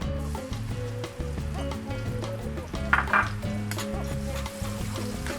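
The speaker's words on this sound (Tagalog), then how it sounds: "So first, atong igisal ang atong garlic." Garlic sautés in a small amount of cooking oil in a pan for escabeche, giving a soft crackling sizzle that swells briefly midway, under steady background music.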